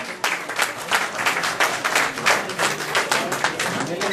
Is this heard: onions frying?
no